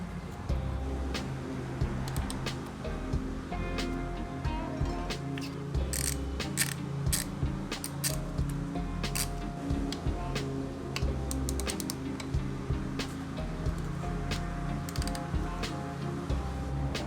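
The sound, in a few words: removing screws from Ducati Hypermotard oil cooler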